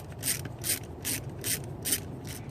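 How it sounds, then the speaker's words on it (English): Ratchet loosening a hose clamp on a car's intake tube, a quiet steady clicking in short regular strokes, close by with no voices. "Then we want to loosen this hose clamp."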